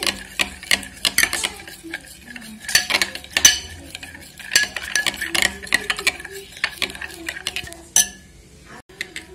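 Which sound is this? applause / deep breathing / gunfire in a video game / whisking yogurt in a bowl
whisking yogurt in a bowl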